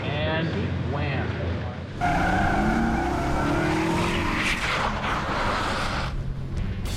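A stunt car races up at the Navy Yard with a roaring engine, then its tires squeal in a loud, drawn-out skid. The sound is close and harsh, and a voice talks over parts of it.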